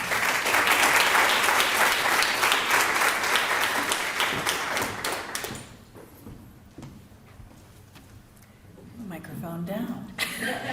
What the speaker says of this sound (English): I'd love it if you all give a round of applause to Mechanics Hall Executive Director Kathy Gagnon.